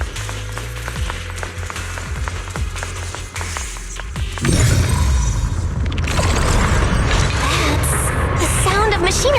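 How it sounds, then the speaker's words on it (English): Factory machinery runs in the video game Zenless Zone Zero. A low, steady mechanical hum gives way to a loud, dense rumbling roar that carries on to the end. "That's the sound of machinery. Looks like it's working."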